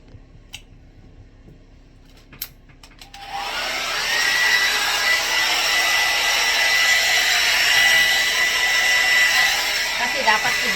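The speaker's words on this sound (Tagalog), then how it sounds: "Guys, magbe-blower tayo." A hair blower switches on after a few quiet seconds of faint handling noises, then roars in a steady, close, loud whoosh while drying hair.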